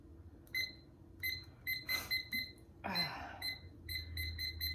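A new kitchen timer beeps in short repeated bursts of bright tones while an applesauce cake bakes, with a brief rustle and clatter in the middle, all faint and close in a quiet kitchen.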